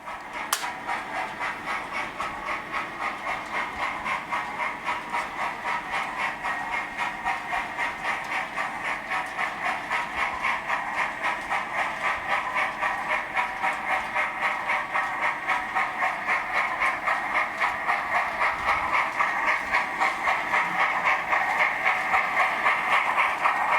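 A steady mechanical hum and faint rhythmic clatter of a Hornby R3603TTS "Lord Nelson" model steam locomotive running along track, continuous and somewhat distant, with no talking.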